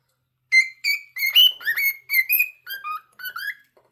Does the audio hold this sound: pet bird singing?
yes